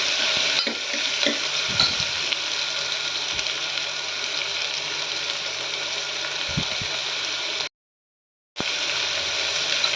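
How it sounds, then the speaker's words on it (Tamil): Vegetables for sambar sauté in a hot pan with a steady, loud sizzle, broken by a few soft stirring scrapes and a brief drop to silence near the end. "இப்போ ஒரு 2 நிமிஷம் வந்து காய் வந்து நல்லா வதக்கி விட்டுக்கலாங்க."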